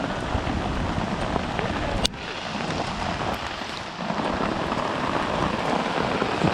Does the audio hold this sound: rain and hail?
yes